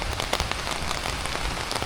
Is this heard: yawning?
no